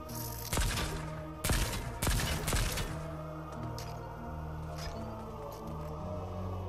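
Fortnite gunfire during a Fortnitemares 2024 match, three or four sharp shots cracking out over the first few seconds, then fading into a steady game hum.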